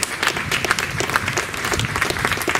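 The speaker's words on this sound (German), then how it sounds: "Ich finde, ihr könnt einen Applaus mal abgeben für alle Malerinnen und Maler." Sustained crowd applause for mural painters at a wall-painting restoration event on Elsass-Straße in Cologne, steady dense clapping throughout with no voices.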